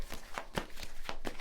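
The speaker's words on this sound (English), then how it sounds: "So, a good shuffle," Tarot cards are shuffled close up, a quick series of soft riffling flutters repeating in a steady rhythm.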